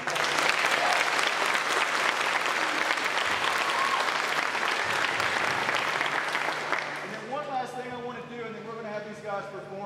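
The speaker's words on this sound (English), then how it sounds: "Let's have a great round of applause." A large crowd claps loudly and steadily in sustained applause for student leaders at a high school band camp recap event, the clapping fading near the end as a voice begins talking.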